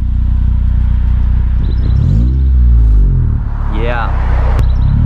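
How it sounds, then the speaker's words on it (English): A Honda Civic Si, ninth generation, with an aftermarket exhaust, idles with a deep rumble and then revs up and settles back, close and loud, while people talk nearby. "Give it a little rev."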